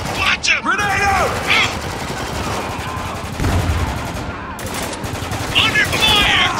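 Combat gunfire in the military shooter game Spec Ops: The Line, a dense, continuous crackle of shots and distant booms at steady loudness, with voices talking over the fighting.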